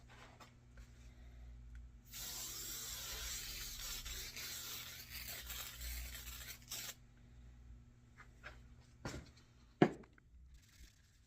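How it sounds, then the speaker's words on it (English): A steady hissing spray of spray adhesive from an aerosol can runs for about five seconds, close and fairly loud, followed by a few faint clicks and a sharp knock. "We're just going to go ahead and use some spray adhesive."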